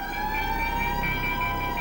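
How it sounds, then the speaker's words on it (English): Air raid siren of the kind sounded across England in 1939, a steady, sustained wailing tone that holds nearly level throughout the short stretch, loud and alone. "air raid sirens across England signaled the approach of war"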